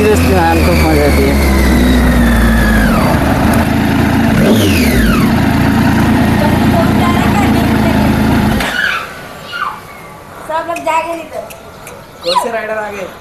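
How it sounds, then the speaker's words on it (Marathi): A motorcycle engine revs loud and close during a ride, its pitch climbing and falling over several seconds before dropping away abruptly, with voices in the background. "मस्त है कि नहीं गाड़ी का आवाज?"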